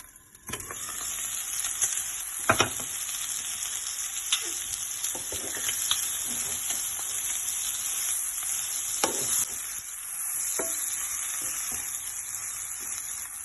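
Pork masala dry roast fries steadily in a pan with a loud, continuous sizzle, broken by scattered scraping knocks as it is stirred, and no one speaks.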